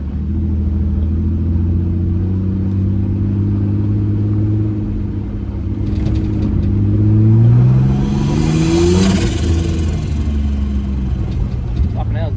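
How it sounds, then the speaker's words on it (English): A Nissan Patrol with a Barra engine and a bigger turbo accelerating, the engine drone climbing in pitch as a rising whistle of turbo spool builds, with wind noise in the cabin. "Hopefully you can hear that turbo, not just wind noise"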